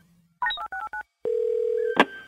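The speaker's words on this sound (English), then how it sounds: "let's go to the random phone dialer and make some calls" Telephone keypad dialing tones from a random phone dialer, a quick run of short beeps followed by a long steady tone and a sharp click, loud and close with no talking.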